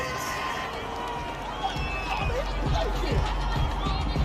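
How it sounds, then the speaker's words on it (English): A stadium crowd in an American football video game reacts to a penalty call, a broad murmur of boos and chatter swelling in the background under talk. "this crowd does not like that call"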